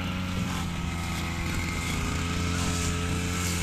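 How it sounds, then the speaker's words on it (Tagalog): A motorized grass cutter trims vegetation along a string bean field, its engine droning loudly and steadily at close range with no break or speech. "Si Tol Entong nag-grass cutter na sa sitaw."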